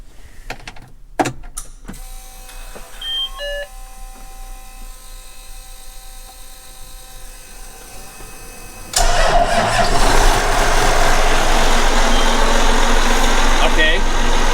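A John Deere 9RT tractor engine cranks with a few short bursts, then catches at about nine seconds and settles into a loud, steady rumble; a voice talks faintly before it starts.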